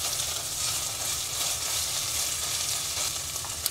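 Crushed ginger, garlic and green chili fry in a hot pan, giving a steady, close, even sizzle that carries on unbroken with no talk over it.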